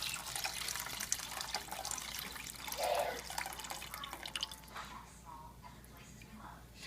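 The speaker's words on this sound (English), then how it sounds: "But I did not soak it today, so I am adding 4 cups of water." Water pours steadily into a pot for cooking basmati jeera rice, a moderate, continuous splashing stream over a hushed kitchen background that eases off toward the end.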